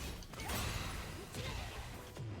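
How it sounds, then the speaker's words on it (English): Fighting-game Sabaki activation effect as a kick connects with an opponent, a dense burst of mechanical whooshing and crunching impact sounds layered with game noise, loud and continuous with sharp hits near the start and middle. "You heard that little effect when my kick collided with her? That means it's a successful activation"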